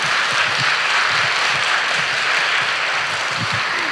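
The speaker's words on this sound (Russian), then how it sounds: "давайте подарим аплодисменты за такие мудрые мысли" Studio audience at a Russian talk show applauds the guests' words, a steady, moderately loud patter of many hands clapping without a break.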